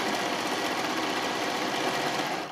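A sewing machine runs continuously while stitching a quarter-inch seam on a wine bottle bag, a close, dense, even mechanical whir and rattle that stays steady before easing off at the very end.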